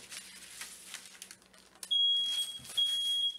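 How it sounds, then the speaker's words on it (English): A shrill, piercing smoke detector beep sounds in sustained bursts after some quiet clattering in a kitchen while cooking rice paper bacon, loud and insistent nearby. "my smoke detector is cheering me on"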